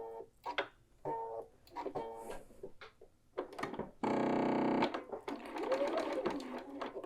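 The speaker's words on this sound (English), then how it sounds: "we're going to head to our machine and we're going to sew across this top edge with a 1/4 inch" A sewing machine stitches the top edge of a quilted jacket patch pocket with a quarter-inch seam. It runs in several short, whirring bursts, then one longer steady run and a few more quick bursts, close and clear.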